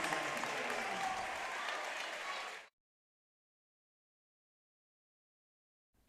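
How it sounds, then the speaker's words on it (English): A basketball crowd at a high school game roars and claps during a timeout in a dense, sustained wash of applause that cuts off abruptly after a couple of seconds, followed by silence. "the crowd's going insane here"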